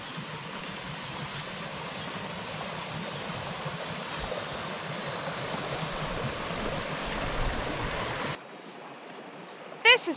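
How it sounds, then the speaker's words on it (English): A small river spills over a mini waterfall into a shady plunge pool, giving a steady, close, broadband rush of water that runs for about eight seconds before dropping sharply to a quieter background. "Mini waterfall and little plunge pool there."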